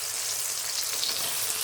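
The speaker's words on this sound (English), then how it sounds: "All we need to do is sizzle off and soften the ginger and garlic." Ginger and garlic sizzle on high heat in a pan for a base gravy, giving a continuous, fairly loud crackling hiss without any talk.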